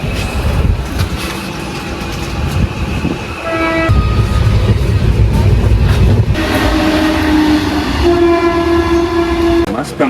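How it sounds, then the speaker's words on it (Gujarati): A Mumbai train sounds its horn in several loud tonal blasts, then rumbles and clatters steadily as it starts moving, close and continuous throughout. "હાલો પાવો વાગી ગયા, ફટોફટ બેહી જાય. હાલતી થઈ ગઈ જો ટ્રેન."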